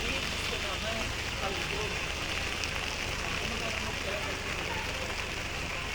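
Steady rain pours during a nighttime Sagala procession in Santa Maria, Bulacan, a dense unbroken hiss of drops on surfaces, even and fairly loud, with voices faintly mixed underneath.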